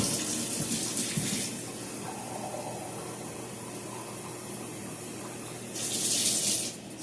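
Warm water runs steadily from a kitchen tap while bread dough is being prepared, a continuous close hiss that swells louder near the end as the flow increases.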